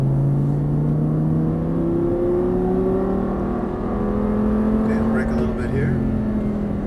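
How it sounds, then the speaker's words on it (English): An Audi R8 on a Las Vegas race track gives a steady engine drone with pitch slowly climbing as it accelerates, heard from inside the car, loud and continuous. "We'll accelerate back to the left."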